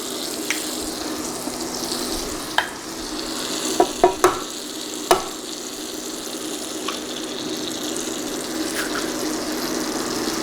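Butter and a cracked egg fry in a pan on an induction hob, giving a steady soft sizzle with a few sharp clicks and taps of utensil on pan near the middle, close and fairly quiet.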